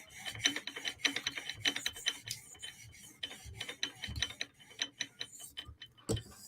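A knife edge is polished on the stones of a TSProf Kadet sharpener, giving a series of quiet, quick rasping strokes in an uneven rhythm, close by with no speech.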